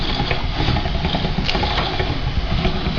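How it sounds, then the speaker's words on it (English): A professional manual ravioli machine being hand-cranked makes a steady, close, rattling and clicking mechanical whir that runs continuously for a few seconds with no voices. "So I'm just cranking this along."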